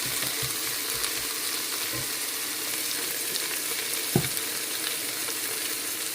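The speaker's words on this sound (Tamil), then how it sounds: "இது வதங்கிக்கிட்டு" Ingredients sauté with salt in a pan, giving a steady, even hiss of frying with an occasional soft clink or scrape, close by and with no talking.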